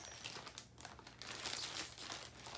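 Close, steady crinkling and tearing of plastic packaging on a fireworks toy as it is pulled open by hand without scissors, continuous for a couple of seconds.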